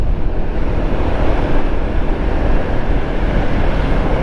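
A 2024 Royal Enfield Guerrilla 450 motorcycle being ridden, its engine a steady low rumble buried under continuous loud wind rush for the whole stretch, with no talking.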